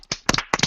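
Hands clap several times in quick bursts, a short close applause of sharp slaps in two clusters, with no speech, on a French television quiz programme.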